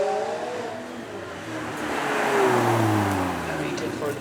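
A twin-turbo V8 McLaren supercar accelerates hard, its engine note rising and swelling in pitch before easing, loud and fairly close, with a voice talking over it.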